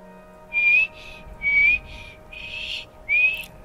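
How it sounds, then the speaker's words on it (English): A character in the video game Skyrim whistles four short phrases, each a rising tone, with brief pauses between them, over a quiet steady background hum. "can I practice my whistling with you?"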